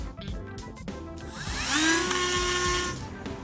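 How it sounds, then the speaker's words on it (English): A Dremel rotary tool grinds down a screw to shorten it, a high, steady whine rising in pitch and holding loud for over a second before fading, with faint knocks and handling noise around it. "I think I'm going to maybe Dremel it down so it's a little bit shorter and then screw it in, making my own screws."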